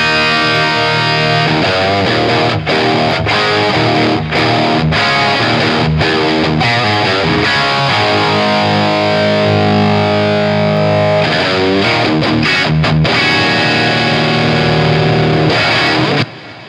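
Electric guitar played through a cranked 50-watt Marshall plexi 1987 model amp, loud and heavily distorted chords and riffs with brief choked gaps, filling the whole stretch alone with no talking.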